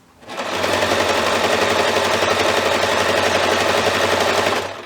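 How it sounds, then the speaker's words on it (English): A sewing machine running steadily to stitch fabric in one giant circle for a girl's nightgown, a loud, even, rapid mechanical whirr held for several seconds after a brief spin-up, close by with no voices. "I'm just going to sew it one giant circle."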